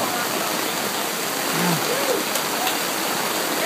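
Steady rain falls during an outdoor crawfish boil, a dense, even hiss close by under shelters, with faint voices in the background.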